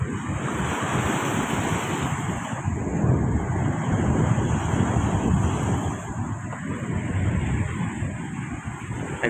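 Loud, continuous roar of sea waves churned by strong wind, with heavy wind buffeting the microphone throughout.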